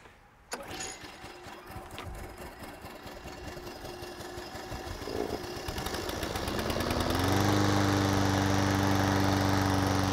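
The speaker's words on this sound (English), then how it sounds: "I can now step to the side and allow the mower to go through a rough area" A Husqvarna 800AWDH all-wheel-drive walk-behind lawn mower runs close by, its engine starting faint and rough, then climbing into a steady, loud, humming drone for the last few seconds.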